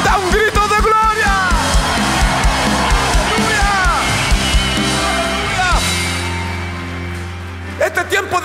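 A church congregation shouts out glory during a service, many voices yelling and whooping together in loud overlapping cries, with speech mixed in before the noise eases off.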